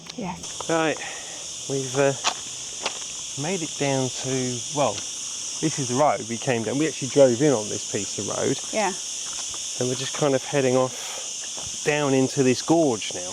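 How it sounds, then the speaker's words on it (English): Cicadas in the trees along a road down into a gorge in a Spanish village, a loud continuous high-pitched buzz that runs steadily under someone talking throughout. "That noise you can hear again is the cicadas in the trees that make an awful noise."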